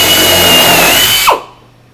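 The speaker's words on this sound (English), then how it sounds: "Drill out the top hole of the Ryobi door" A power drill boring out a rivet hole while installing a Ryobi door closer on a portable toilet unit, loud close whirring that stops abruptly and spins down.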